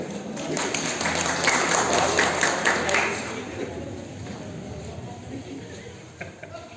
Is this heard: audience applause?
yes